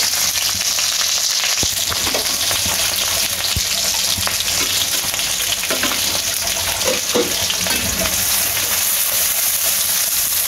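Steady, loud sizzling of onions and green chilies frying in hot mustard oil fills the whole stretch, with occasional scraping stirs and no talking.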